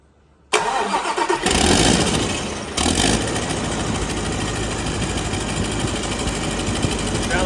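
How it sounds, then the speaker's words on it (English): A Scania diesel V8 engine cranks and fires at once, then settles into a loud, steady rumbling idle that runs on close by. "Sounds like a real engine now"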